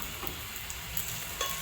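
Garlic sautéing in a little oil for pork menudo, a steady close sizzle with faint stirring clicks throughout the short stretch.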